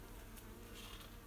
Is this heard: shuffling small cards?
no